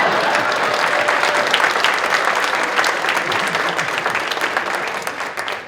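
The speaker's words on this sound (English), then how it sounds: "You owe me a round of applause." Audience at a speech breaks into a round of applause, dense steady clapping filling the room at fairly loud level and tapering slightly at the end.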